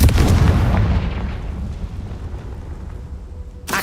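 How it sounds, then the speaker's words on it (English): A Confringo fire spell cast in the Hogwarts Legacy video game bursts out as a loud, booming blast that decays into a rumbling tail, with a second sharp burst at the very end. "Sometimes you'll have foliage and stuff and you just gotta use fire. Confringo works great."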